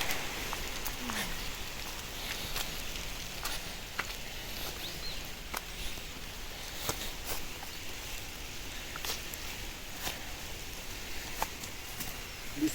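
Rain patters steadily on leaves and ground in a forest near a mud house building site, a soft constant hiss broken by scattered sharper drips, with faint footsteps and rustling.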